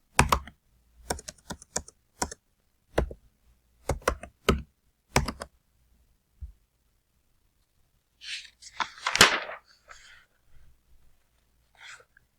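Keys on a computer keyboard are pressed in short bursts of clicks with pauses between as data goes into a table, close and crisp, followed by a brief breathy noise and a few last taps.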